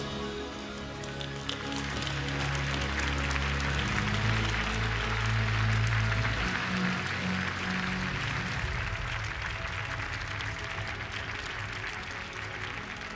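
Steady applause from a crowd rises and holds for the whole stretch, a dense patter of clapping without any speech.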